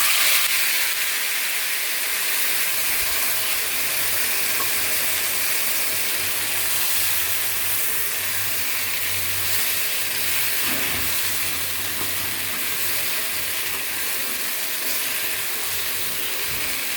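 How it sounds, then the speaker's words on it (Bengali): Baim fish steams and sizzles in a hot pan as a broad, continuous hiss, with a low rumbling undertone. The sound is close and steady throughout, with no speech. "এখন মাছগুলো দিয়ে দিচ্ছি।"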